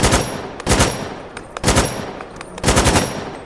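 Four quick bursts of AK rifle fire in the Fallout 4 VR game, each a loud, close rattle of several rapid shots separated by short pauses.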